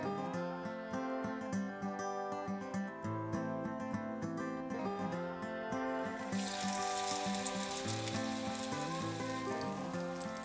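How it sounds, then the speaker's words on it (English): Chikuwa fries in hot oil with a soft, steady sizzle that swells brighter partway through, heard faintly beneath background music. "Fry until golden brown."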